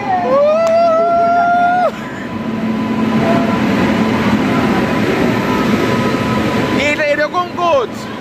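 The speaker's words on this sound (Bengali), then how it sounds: "वो आ गया, ट्रेन এসছে" A train pulls into a station platform on the way to Darjeeling, its horn sounding at the start and again near the end over a loud rolling rumble of coaches, with people talking nearby.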